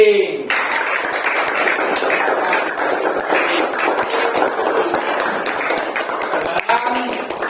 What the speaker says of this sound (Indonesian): tepuk tangan untuk kelompok P